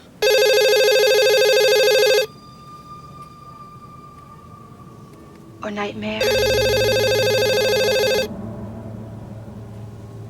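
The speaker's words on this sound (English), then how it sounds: "Will someone pick up the damn phone?" A telephone bell rings in two long, loud electronic bursts, close by and left unanswered, with a short pause between them while a voice speaks during the gap.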